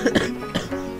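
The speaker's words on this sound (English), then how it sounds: "Pardon me, I'm coughing too much." A person coughs in a few short, rough bursts close to the microphone, two quick ones followed by a softer third.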